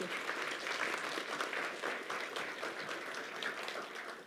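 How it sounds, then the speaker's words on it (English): An audience at a keynote address on restoration and regeneration gives a sustained round of applause, dense even clapping that holds steady and fades slightly at the end. "let's give it another round of applause for Paula."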